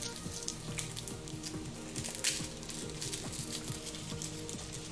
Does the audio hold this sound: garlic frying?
yes